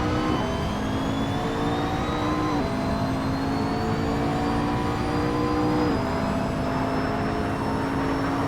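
A McLaren 650 GT3 race car engine in Assetto Corsa at Spa drones steadily with a strong, continuous tone, its pitch climbing through gear changes and dropping sharply at shifts, loud and close throughout.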